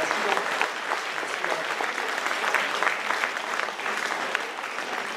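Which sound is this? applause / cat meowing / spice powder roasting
applause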